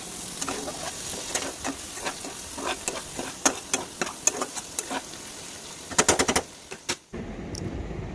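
Spice masala with red chili powder fries in hot oil for a tengra fish curry, giving a close crackling sizzle with sharp rhythmic spatula clicks and a quick burst of scraping near the end before it suddenly drops away.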